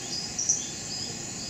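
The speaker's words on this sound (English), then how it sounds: "a glass tree frog. And this is actually what we're hearing in the background here." High, rapid chucking calls of a glass tree frog in a rainforest, a steady bright chorus with a few louder notes standing out, heard at moderate distance with no one talking.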